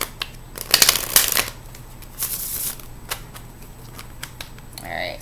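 A deck of cards being shuffled during a tarot-style reading, with a loud riffle of rapid crisp flutters near the start, then scattered lighter taps and shuffles, close to the microphone, with a brief voice near the end.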